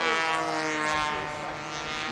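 RC model airplane engine droning steadily at a distance over a windy field, a continuous buzzing tone that stays fairly even throughout, with wind noise underneath.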